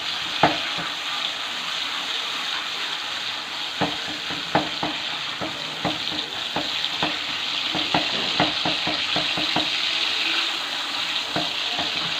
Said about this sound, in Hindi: हमने टमाटरों से इसका मसाला बनाना स्टार्ट किया है।